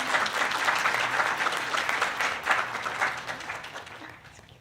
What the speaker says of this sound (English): Let's give an extra round of applause for the artists that are here today.